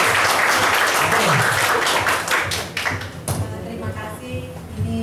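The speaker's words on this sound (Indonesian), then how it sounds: "Beri aplaus dong" Loud audience applause with dense clapping fills the first few seconds at a lively stage show, then thins out and fades as a voice begins speaking over the remaining patter.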